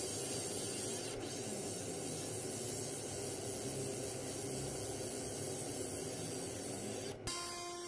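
A ComMarker B4 60W JPT MOPA fiber laser engraves metal in crosshatch fill passes, giving a continuous loud hiss with a faint high whine that cuts off just before the end.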